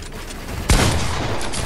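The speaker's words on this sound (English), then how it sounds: "That's called a little bit of a pump shot." A single loud pump shotgun blast goes off in Fortnite, a sharp sudden crack with a low thump that rings out and trails into a sustained wash of game noise.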